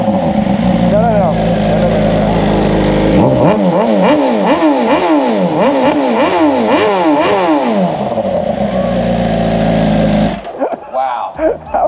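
Carbon-bodied BMW M1000RR sport bike engine revved hard in repeated rising and falling bursts, loud and close, with people's voices mixed in before it drops away near the end.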